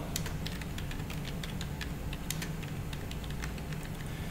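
Names being typed on a computer keyboard, a rapid, irregular run of close key clicks over a steady background hum, with no talking.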